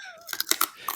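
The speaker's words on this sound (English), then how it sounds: "That was a good crunch." Crunchy food is chewed right at a microphone, making a few sharp, crisp crunches in quick succession within about a second.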